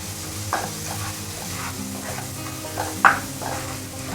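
Cluster beans frying with kala masala in a pan, a steady close sizzle with a few louder scraping stirs of a spoon, no voices.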